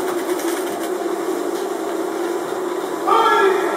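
A sewing machine runs steadily while stitching a Moroccan kaftan, a continuous mid-pitched whirring hum close by that lasts throughout, with a slight rise in intensity near the end.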